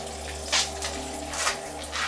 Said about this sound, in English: it's been more than 5 minutes water has been running